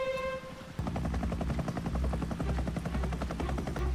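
A helicopter's rotor thumps in a fast steady rhythm in the TV series Lost, loud and close, after a brief tonal sound at the start.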